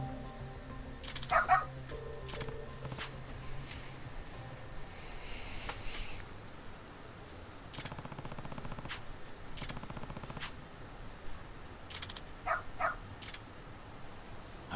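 Dog barking in the video game Lost Judgment, a few short yips and barks scattered over busy game ambience with sharp gunshot-like bursts, moderately faint.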